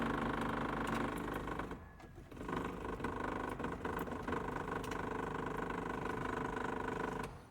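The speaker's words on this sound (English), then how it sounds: "I'll be damned, that fuel pump works." A UTV's electric fuel pump whirs in a steady mechanical hum close up, briefly dipping near the two-second mark before resuming at an even level.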